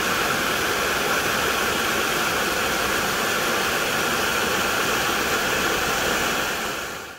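Steady rushing water pours continuously from a spring on the Appalachian Trail, loud and close, a broad hiss of flow that fades out at the very end.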